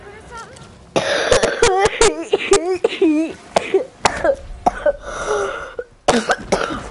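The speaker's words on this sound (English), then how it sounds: "Fucking coughs, man." Repeated harsh coughs and throat clearing from a man in bursts, loud and close, mixed with ongoing casual talk during a Call of Duty Shadows of Evil gaming session.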